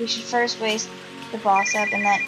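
Phone ringtone going off in a video game, a short repeated electronic melody sounding in bursts under a character's spoken line.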